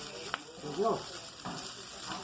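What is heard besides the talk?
raw pancetta frying in a pan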